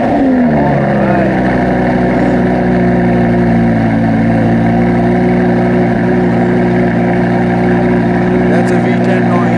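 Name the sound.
Lamborghini Gallardo Superleggera naturally aspirated V10 engine, custom exhaust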